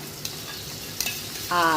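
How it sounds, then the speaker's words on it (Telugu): Steady crackling sizzle of a ground ginger, garlic, cumin and coriander paste frying in hot oil, close and continuous, with a brief scrape of stirring near the end. "ముందు కొంచెం ఆయిల్లో వేపుతున్నారు"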